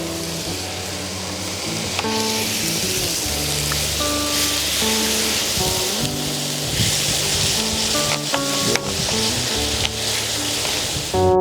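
Seasoned meat and vegetables sizzle in a pan while being stirred at a campsite on a night of heavy rain, with steady frying hiss and the scrape and clink of a utensil against the pan.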